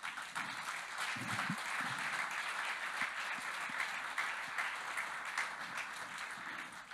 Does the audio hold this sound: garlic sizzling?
no